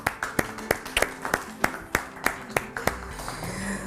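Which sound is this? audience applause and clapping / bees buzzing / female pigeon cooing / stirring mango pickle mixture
audience applause and clapping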